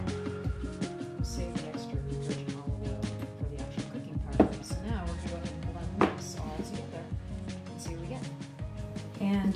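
A knife chops boiled baby potatoes on a cutting board for a dill and garlic scramble. Quick repeated knocks run throughout, with a couple of louder hits, under music and a talking voice.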